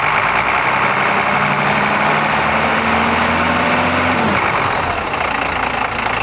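An International DT466 diesel engine idling in a converted school bus, steady loud rumble with a turbo whine layered on top, running alone without talk.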